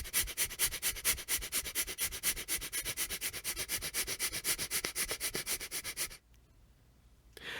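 Rapid bellows-like breathing exercise: forceful, noisy breaths pumped in a quick, even rhythm for about six seconds at close range, then a sudden stop into quiet.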